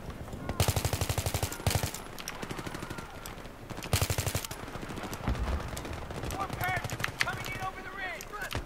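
Suppressive machine-gun fire in a Battlefield 3 campaign battle, loud rhythmic automatic bursts repeating in several long strings, with scattered shots, battle clatter and voices in between.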